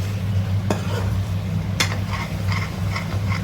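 Chicken korma with masala and garam masala frying in a pan, a steady close sizzle with scraping stir strokes and a couple of sharp utensil clicks against the pan.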